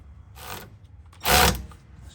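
Two short mechanical whirring bursts as bolts are run down on a 2010 Honda CR-V 4WD rear wheel assembly, the second louder and closer than the first.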